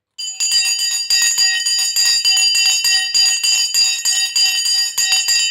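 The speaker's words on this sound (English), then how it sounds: "The bell has now gone and we are off to the races" A loud stock market opening bell rings continuously with rapid repeated strikes, bright and metallic, sustained for several seconds.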